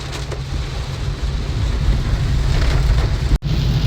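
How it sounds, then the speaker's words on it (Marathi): Mumbai monsoon rain pours steadily during a car ride from Mumbai to Pune, a loud, dense wash of rain and road noise that is broken only by a brief dropout near the end. "मुंबईचा पाऊस बघा"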